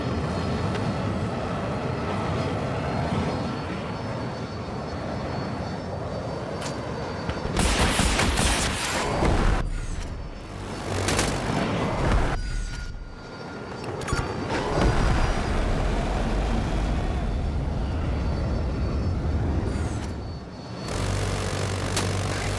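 Hostile helicopter in a combat video game, a steady rotor and engine drone running throughout, broken by loud bursts of gunfire and explosions; no speech is heard.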